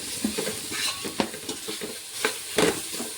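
Ginger garlic paste frying in a pan for chicken biryani: a soft, low sizzle broken by scattered stirring scrapes and light clinks of a spoon against the metal.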